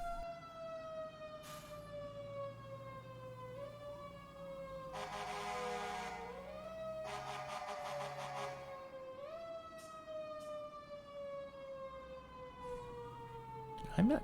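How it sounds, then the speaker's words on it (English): A Federal Q2B mechanical fire truck siren winds up and slowly falls in long sweeping wails, repeated several times, with short blasts of an air horn between them. "Using the Federal Q siren, the Q2B."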